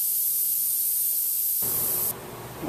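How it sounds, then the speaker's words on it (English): Air hissing steadily out of a flat car tire on a Crown Victoria through a reaming tool, a loud continuous spray-like rush that shifts tone partway through. "That'll also help get all the air out of the tire."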